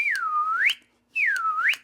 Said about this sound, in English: this is called a slide whistle